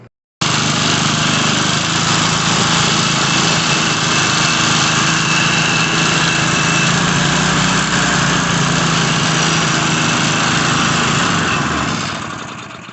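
Power Trim 150 lawn edger with a Briggs and Stratton 2 hp engine runs loud and steady for about twelve seconds, a continuous small-engine drone that starts abruptly and eases slightly near the end.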